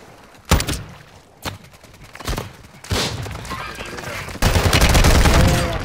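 Gunfire bursts crack in a Call of Duty match on Ashika Island, with KASTOV 74u and TAQ-5 rifles in play: several sharp shots early, then a loud sustained fusillade building toward the end, with faint voices underneath.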